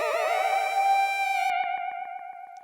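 A warbling synth tone in a dub reggae jam with a pulsing dub delay effect, its echoes continuing in rhythmic, fading repetitions after the sound stops.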